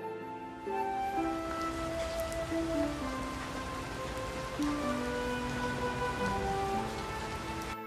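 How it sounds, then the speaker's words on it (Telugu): Steady rain falls on an outdoor spot near stored grain, a dense continuous patter with a faint tonal hum running beneath it, no voices present. "సార్ వర్షం పడుతుంది సార్, ధాన్యం తడిచిపోతుంది సార్."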